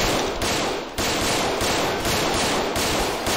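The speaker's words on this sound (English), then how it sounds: "Shots fired! Shots fired at the police station!" Rapid automatic gunfire rings out during a police shootout at a police station. The bursts are loud, dense and continuous, coming in quick repeated volleys with no talking.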